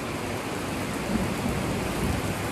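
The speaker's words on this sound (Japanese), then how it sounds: "雷まで鳴ってきた。" A downpour roars on steadily while a low thunder rumble swells beneath it around the middle, part of a heavy rainstorm that brings flooding; no one speaks.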